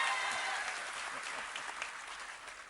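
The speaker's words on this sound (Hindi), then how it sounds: "तो आपको भी जोड़ करके उसके आनंद के साथ हमारे ताली बजाओ तो अच्छी बजाओ" Audience applause at a public government function held for Vimukti Diwas, a steady, dense clapping that fills the whole stretch at an even level with no voices over it.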